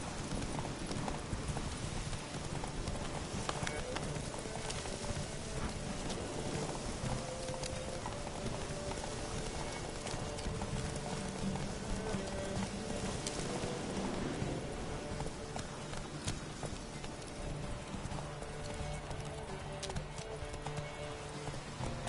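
Horse hooves gallop in The Witcher 3, a steady rapid clip-clop running throughout with occasional whinnies mixed into the game's background sounds, no voices.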